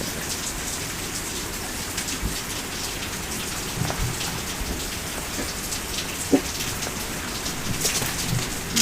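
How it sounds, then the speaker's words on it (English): Rain falls steadily, pattering densely on surfaces with scattered sharper drips and a few louder drops, a continuous close wash of sound with no voices heard. "I'm just gonna show the rain still going for you guys here."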